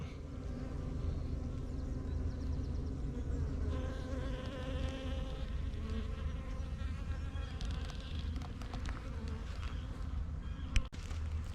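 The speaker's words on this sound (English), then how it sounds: "These bees aren't too aggressive today, so that's good." A steady, droning hum of many bees buzzing at a hive entrance nearby, continuous throughout, with a brief sharp click near the end.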